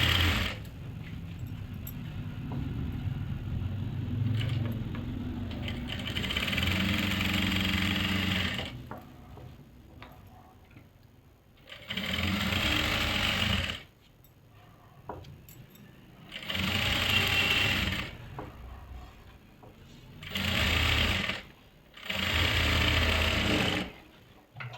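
A sewing machine stitches a salwar in distinct bursts of whirring, a long run early on followed by four shorter close runs separated by quiet pauses.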